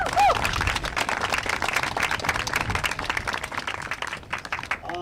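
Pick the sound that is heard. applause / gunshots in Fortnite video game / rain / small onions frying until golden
applause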